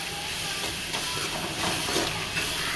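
Ginger garlic paste sizzles in a pan with onion and tomato for chicken gravy, a continuous broadband hiss that holds steady and close, with no talking.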